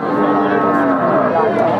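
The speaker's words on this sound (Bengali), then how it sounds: "গরুর হাট থেকে ডবল বডির গরুগুলো" Cattle moo in long, loud, drawn-out lows close by at a livestock market, with more animals and a busy market murmur in the background.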